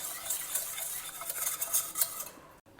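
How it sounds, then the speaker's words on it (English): Cooked dal being whisked and mashed in a pot, a close, busy scraping and clinking of a utensil against metal with soft wet stirring, fading out at the end. "I will just whisk it a little bit and mash it thoroughly."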